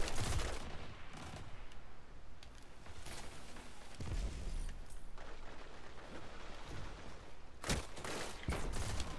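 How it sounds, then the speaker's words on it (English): Rapid bursts of grenade launcher fire and explosions in a Destiny 2 Iron Banner match, loud and dense, with heavy booms at several points over continuous weapon noise. "No, that's grenade launcher from TJ."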